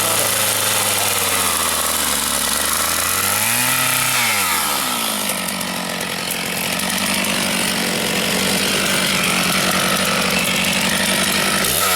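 A 3/8 pitch chainsaw cuts into a log, its engine revving up and dipping once before settling into a loud, steady bite through the wood for the rest of the stretch, heard up close with no talk.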